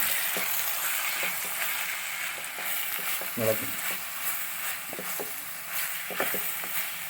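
Sardines and grated coconut frying in a pan give a steady close sizzle, with scraping stirs and occasional clinks breaking through as the mixture is turned.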